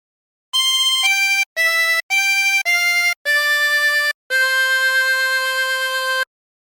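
Silent Night melody phrase played on a 16-hole tremolo harmonica, six clean separate notes with a slight wavering shimmer, the last held longest, heard alone and close.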